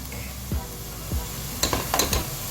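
Minced garlic frying in a pan for lasagna gives a soft steady sizzle, with a few sharp scrapes of stirring near the end.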